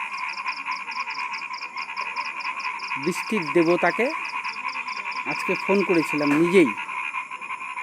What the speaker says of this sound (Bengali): কি সুন্দর ব্যাঙের ডাক শুনতে পাচ্ছি